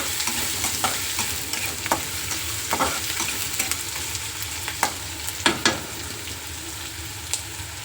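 Onions, green chillies and peanuts fry for poha with a steady close sizzle. A spoon scrapes and knocks against the pan now and then, and no voice is heard.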